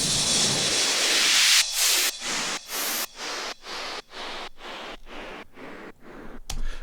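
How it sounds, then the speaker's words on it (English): A deep house remix of a Christmas song builds a bright riser of filtered noise that washes up, then chops into rhythmic gated bursts for the transition between eight-bar sections, ending on a swelling sweep. "some effects, of course, to emphasize the transition from the first 8 bars to the second 8 bars"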